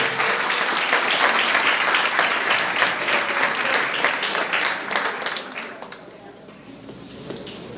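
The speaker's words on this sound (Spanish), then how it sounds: "usted denle un fuerte aplauso al Señor" A church congregation breaks into loud applause at a Sunday service, a dense burst of many hands that fills the room and then slowly thins and fades toward the end.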